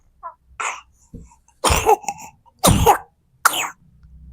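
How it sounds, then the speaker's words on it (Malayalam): A six-month-old baby coughing nearby, several sharp, separate bursts with pauses between them and small breathy sounds in the gaps. "ഇതാണ് കൊച്ചിന്റെ ചുമ."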